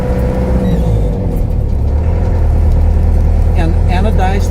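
1989 Land Rover Defender Perentie 110 4x4 on the move, a loud steady engine drone and low rumble throughout, with someone talking over it.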